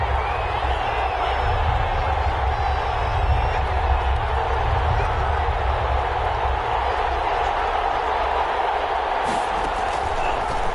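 Stadium crowd noise in a PS4 football video game broadcast rolls on as a dense, steady roar for the whole stretch, loud and unbroken, with no clear individual voices.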